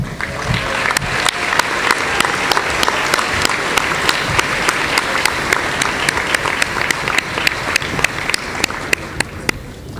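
A large crowd at a convocation ceremony applauds award winners steadily throughout, dense clapping with sharp individual claps standing out, sustained at an even level with no pause.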